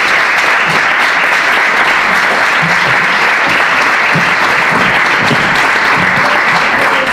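Warm audience applause welcomes a speaker at the Foro Ser Mujer forum hosted by Cadena SER in Ciudad Real. Dense, steady clapping fills the room for about seven seconds without pause.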